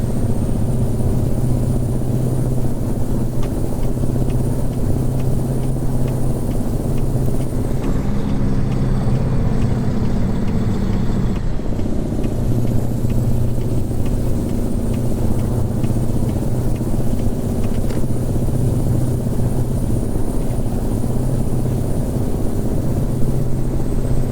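Mack Superliner truck engine without a turbo in American Truck Simulator, a loud steady diesel drone held near high revs, briefly dipping and shifting pitch midway before settling back into a constant roar.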